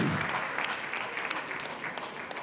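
Audience applause at a health talk in an Italian lecture hall, a steady wash of clapping that fills the whole clip at moderate level and slowly thins toward the end.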